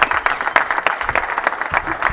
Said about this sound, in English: Please, big round of applause for Jessie Vargas.